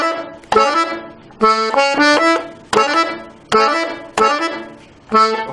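A piano accordion plays a quick melodic run, repeating short bursts of bright, reedy notes in a lively rhythm, close and clear with no voices.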